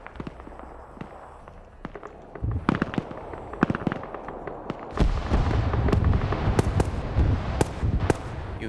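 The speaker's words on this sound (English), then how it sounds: "You hear grenade machine guns going off." Grenade machine guns and gunfire in a large PvP video game battle, sparse distant pops at first, then dense rapid bursts and sharp cracks building to near-continuous loud firing, no voices.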